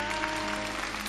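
A studio audience applauds at the close of a Liaoning TV dating show, steady dense clapping holding at an even level throughout the short burst with no voices.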